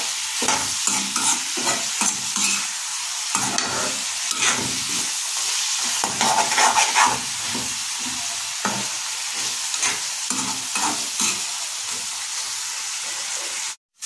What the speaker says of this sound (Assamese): আৰু এয়া চব মাংসখিনি মই খুব ধুনীয়াকৈ ভাজি আছোঁ।